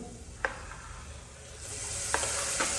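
Onions and tomatoes sauté softly in a pan with ginger-garlic paste and salt for Tamil vada curry, a quiet steady sizzle broken by a few scraping stirs of the spatula.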